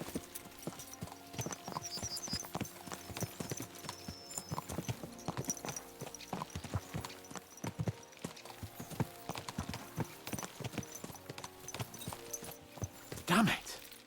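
Horses' hooves clip-clop steadily in a medieval video game, a rapid irregular trotting rhythm running throughout with a brief louder burst near the end, while a voice talks over it.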